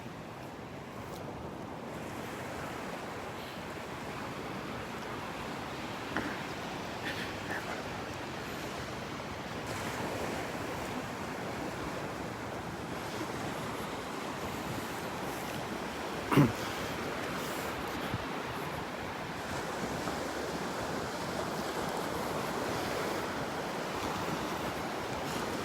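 Ocean surf breaks continuously on a Gulf beach at Delnor-Wiggins, a dense wash of waves mixed with gusting wind noise on the microphone, one brief thump partway through and no talking.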